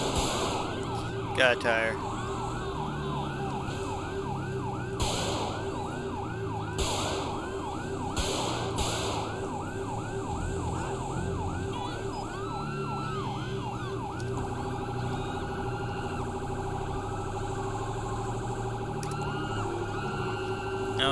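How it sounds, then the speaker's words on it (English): Dual police car sirens wail continuously in the FivePD police game, cycling and overlapping at steady loudness beneath a rumbling engine, with brief speech over the top. "I don't normally do dual sirens, but I can't really mess with the sirens right now"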